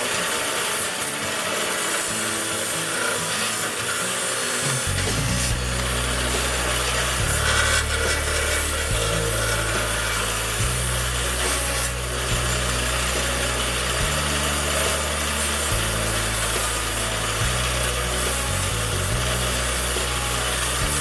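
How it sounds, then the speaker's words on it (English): A bench grinder runs steadily and loudly nearby, a continuous harsh grinding roar with a low hum that shifts in pitch every few seconds as the workpiece is pressed on and eased off, with no talking. "trying to show you how the bench grinder actually works"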